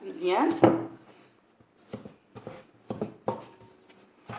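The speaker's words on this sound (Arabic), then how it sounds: "100 غرام ديال الزبده مع 100 غرام ديال السكر سنيده، ونحاول انني نمزجهم" A spoon or whisk beats butter and granulated sugar together in a bowl, giving irregular scraping and knocking strokes, louder at first, then sparser taps spaced through the mix.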